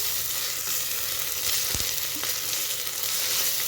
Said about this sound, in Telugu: 1/2 kg మటన్కి 2 టేబుల్ స్పూన్స్ అల్లం వెల్లుల్లి పేస్ట్ వేసుకోవాలి. ఇది కూడా పచ్చివాసన కాస్త పోయే వరకు మనము ఫ్రై చేసుకోవాలి.